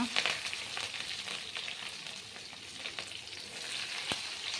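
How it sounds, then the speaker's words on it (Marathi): Cumin and mustard seeds sizzling in hot oil, a steady close crackle and hiss with a few sharp pops, no voices over it. "आपलं तेल तापलेलं आहे यामध्ये जिरं मोहरी घालून घेऊया"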